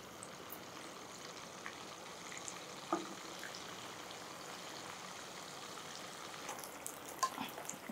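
Shark fish pieces fry in hot oil, a steady, moderately quiet crackling sizzle with a few small pops and scrapes, no talking.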